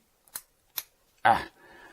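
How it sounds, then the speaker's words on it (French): The child-safe top cap of an Innokin iTaste Kroma vape kit is pressed and unscrewed, giving two short close clicks and then a louder ratcheting twist with a brief fading rasp. "pour le dévisser, il faut appuyer dessus et le tourner"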